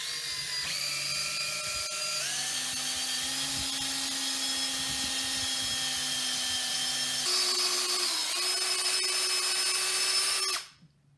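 A power drill bores holes in wood to take eyebolts, a close steady whine that rises and shifts in pitch as the bit cuts, then stops abruptly at the end.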